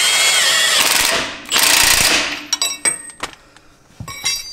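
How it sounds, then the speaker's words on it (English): Metal ratchets and clinks as a 21 mm wrench tightens the bolt and nut on an adjustable front track bar of a Jeep JL Wrangler or JT Gladiator: a loud grinding rasp first, then scattered sharp metallic taps and clanks close by. "using a 21 millimeter wrench on the back side, you can go ahead and tighten it up"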